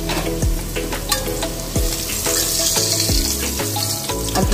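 Potatoes frying in hot oil as a first step toward a mutton curry: a loud, steady sizzle and crackle runs throughout, layered over a sustained tonal background with a few low, sweeping swells.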